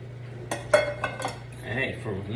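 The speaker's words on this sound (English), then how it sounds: "I'm just gonna mix this with my pasta" Lobster meat is stirred into pasta in a pan, producing a short run of metal utensil clinks and scrapes against the pan, with a faint hum underneath.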